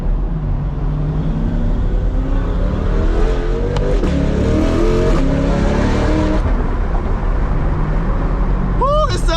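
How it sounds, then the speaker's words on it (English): A 2023 Corvette Stingray engine revs hard through a catless factory Z51 exhaust, rough and crackling, pitch rising and falling through several throttle blips, with a voice briefly audible. "This is the factory Z51 exhaust with just being Catless."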